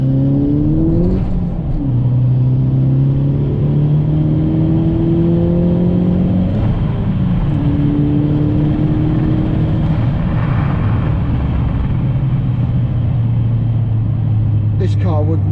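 A Volkswagen Golf Mk6 GTI accelerates hard on a wet road, its engine rising steadily in pitch through several gear changes with loud in-cabin rumble while someone talks over it.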